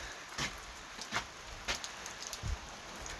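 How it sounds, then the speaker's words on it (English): Heavy rain falling outside during a drive, a steady dense hiss with scattered louder drops and thumps on the surface, fairly quiet overall. "Just going to have a drive up to Newcastle West now in the rain. Oh, it's coming down now."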